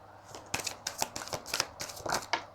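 Tarot cards are drawn from a deck in a quick run of crisp, papery slaps and riffles, close and fairly loud, with no talking.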